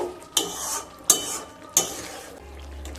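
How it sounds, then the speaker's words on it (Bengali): Spices such as garam masala, ghee and kasuri methi being stirred into a vegetarian doi potol (pointed gourd in yogurt) curry: three sharp clinks of a spoon against the pan, spaced evenly, then a low steady hum near the end. "দিয়ে খুব ভালোভাবে মিশিয়ে নেব"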